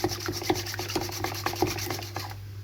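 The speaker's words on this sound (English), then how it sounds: "There are many ways of whisking. This is I like most. And then you can speed up." A fork or whisk beats eggs in a bowl for spaghetti carbonara, a quick rhythmic scraping and tapping that speeds up slightly, close and fairly soft over a steady low hum, with no voices.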